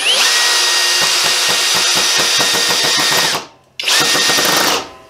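A power driver with a Crescent Vortex bit sinks a 3-inch screw into wood with a loud, steady whine and a fast chattering pulse, stops briefly, then runs again. No one speaks.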